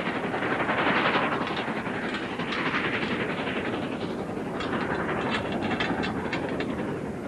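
A steam train runs along the line, its loud, steady chuffing and rolling clatter of wheels filling the whole stretch with a constant hiss over a low rumble, close and unbroken.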